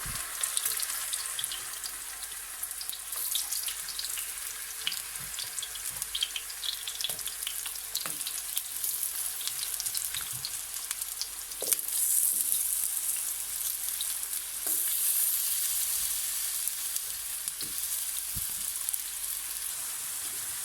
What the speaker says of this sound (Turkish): Daha sonra halka halka doğramış olduğumuz patateslerimizi kızartıyoruz.